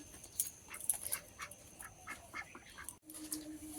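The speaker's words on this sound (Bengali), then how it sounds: "এখন হাঁসগুলো ঘরেই আছে ওই যে দাঁড়িয়ে আছে দুজন" Domestic ducks in their shed, a few faint scattered quacks and calls at a distance over quiet background noise.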